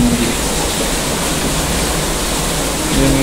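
Heavy rain pours during a flood as the water rises, a loud, dense, unbroken hiss of rainfall and rushing water filling the whole stretch.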